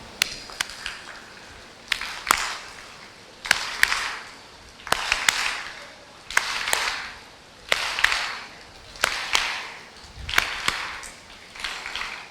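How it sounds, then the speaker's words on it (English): Rhythmic rounds of audience clapping in a hall, a patterned group clap repeated in roughly nine evenly spaced bursts, each opening with a sharp crack and swelling into a broad wash of hands. "Let us all salute Honorable Chief Minister with our founder chairman's clap of happiness"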